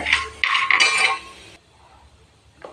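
Roasted coconut is scooped out of a pan with a metal spoon, making a few close clinks and scrapes that stop, followed by quiet.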